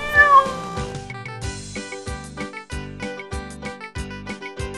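A cat meows with a short rising and falling cry at the start, followed by a run of evenly spaced tonal notes, with no talking.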